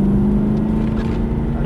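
A 2011 Aston Martin's engine drones loud and steady from inside the cabin as the car accelerates, a thick continuous low rumble with no breaks.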